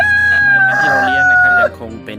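A Rhode Island Red rooster of Australian line, kept as a laying-breed breeder on a backyard farm in a rubber plantation, crows loudly and close by in one long drawn-out call, followed by a brief quieter trailing sound.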